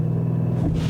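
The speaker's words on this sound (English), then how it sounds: "Let's go back into sport mode. I just want to try the launch one more time." A 2021 Audi RS7 Sportback launching hard in sport mode, its engine a deep steady rumble with a low droning tone that builds slightly toward the end, loud and close from inside the car.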